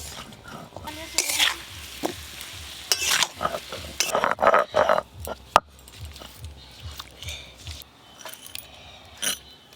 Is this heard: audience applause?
no